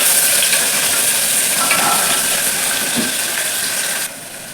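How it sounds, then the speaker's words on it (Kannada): Chopped onion fries steadily in a pan for masala rice, giving a loud, continuous sizzle with faint stirring scrapes beneath, dropping slightly near the end. "ಈರುಳ್ಳಿ ಹಾಕ್ತಾ ಇದ್ದೀನಿ, ಕಟ್ ಮಾಡಿರೋದು. ಈರುಳ್ಳಿ ಫ್ರೈ ಆಗಲಿ."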